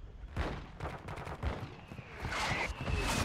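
Call of Duty combat: rapid bursts of gunfire and booming impacts, including a mortar strike, crowd together loud and close, layered over a continuous battle din.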